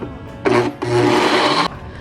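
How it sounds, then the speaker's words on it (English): A blender crumbs crust for pumpkin cheesecake bars in a home kitchen, whirring loudly in two bursts, a short one then a longer steady run, before stopping abruptly. "So I put it in the blender."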